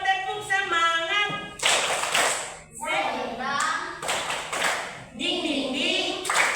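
A group of students clap a rhythmic spirit cheer during an ice-breaking activity in a Christian religious education classroom. Short bursts of clapping are interleaved with loud chanted voices, with the claps arriving in patterned groups.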